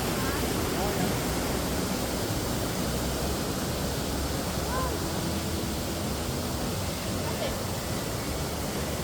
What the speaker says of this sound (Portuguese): E isso tudo aí é a Cachoeira da Formiga